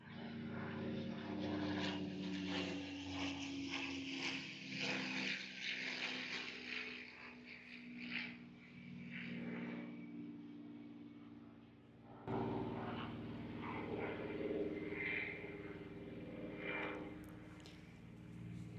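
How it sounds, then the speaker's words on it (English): A propeller airplane passing overhead above a back garden in summer, a steady droning engine hum that stays fairly distant and faint, rising and easing slightly over its long passage with no talk. "Oh, another plane."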